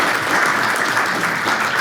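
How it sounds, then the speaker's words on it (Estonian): An audience at an Estonian seminar on species protection and wind energy applauds a speaker, a dense, loud, steady wash of clapping lasting the whole moment with no talk. "teeme Kailile aplausi."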